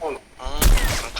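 Gunfire in the video game Free Fire during a squad match near a wooden house: a couple of sharp booming shots, close and loud, with brief voice chatter before them.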